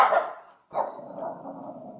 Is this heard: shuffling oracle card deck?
no